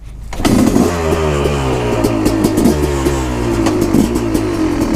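A KTM 250SX two-stroke dirt bike engine starts up and runs loud and close, revving steadily with a rattling, buzzing tone that rises and falls slightly on a desert ride, with no talking.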